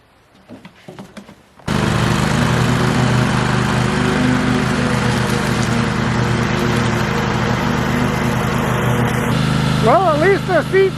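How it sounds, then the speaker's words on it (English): A riding lawn mower engine fires up after a brief scuffle and runs loud and steady, a constant buzzing drone that stays close throughout, with a few rising whistly tones near the end. "No, really, it's a good mower."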